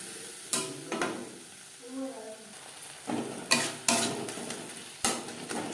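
Spice paste (masala) with a splash of water fries in a pan over low to medium flame for a katla fish curry with flat beans, sizzling steadily while a spoon scrapes and stirs in several sharp bursts.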